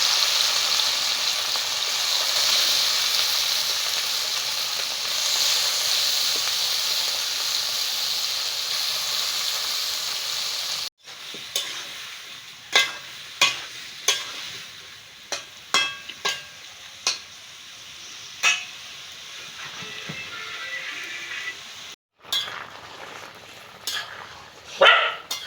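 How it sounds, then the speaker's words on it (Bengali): Fish frying in hot oil in a village kitchen, a steady close hiss of sizzling for about ten seconds, then softer crackling with scattered clicks and scrapes of stirring. "তো তেলটা গরম হয়েছে, মাছটা সুন্দর ভেজে নেব।"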